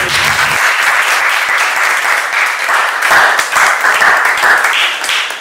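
Loud, sustained applause from an audience at a live stage introduction, dense clapping holding steady for several seconds before tapering slightly at the end.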